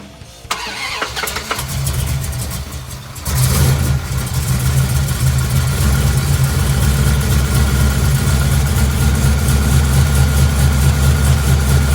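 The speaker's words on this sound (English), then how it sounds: "This car's been sitting for probably 2 weeks. Haven't primed it at all, and it cranks up like that." A classic car engine that has sat unprimed for about two weeks cranks briefly, catches, then settles into a loud, steady, rumbling idle that continues to the end.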